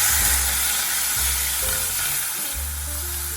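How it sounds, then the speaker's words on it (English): Pork sizzles in a teaspoon of cooking oil beside softened sauteed onion, giving a steady, close, bright frying hiss over a low intermittent hum, with no talking. "Cook the pork."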